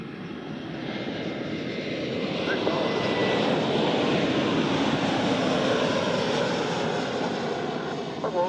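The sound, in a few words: Airbus A330 landing at Zurich Airport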